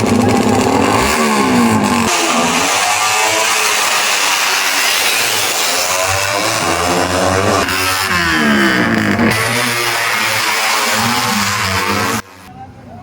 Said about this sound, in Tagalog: Inganiyon pag-andar sa motor oh.